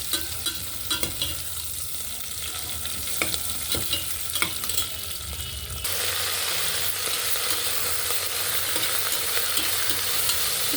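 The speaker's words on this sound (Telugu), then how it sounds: "ఉల్లిపాయ వెల్లుల్లి వేగుతుంది" Onion and garlic fry in a pan with a bright continuous sizzle and occasional scraping clicks of a stirring utensil, close up, growing louder and denser partway through, with no talking.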